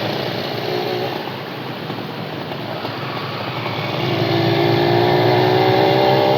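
A motorcycle rides slowly along the left edge of the road toward a festival, its engine a steady, loud, close drone that builds slightly as it moves, with wind rushing over it.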